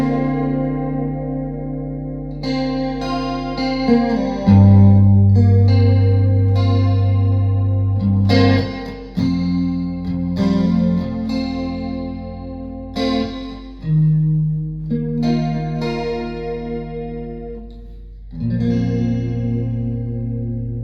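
Electric guitar played through a Marshall AVT 150 Valvestate amp with reverb and chorus blended just past halfway, sustained shimmering chords and single notes ringing with a wide, swirling, echoing tail, loud and alone.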